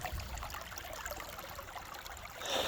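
Clean spring water flows steadily near a volcano at Selsvellir on Iceland's Reykjanes peninsula, a close, continuous trickling stream that swells slightly louder toward the end.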